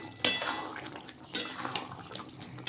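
A pointed gourd, potato and chana dal curry is stirred in a pan, with a few sharp metal spoon scrapes and clinks against the pan and soft wet sloshing in between, close and fairly quiet.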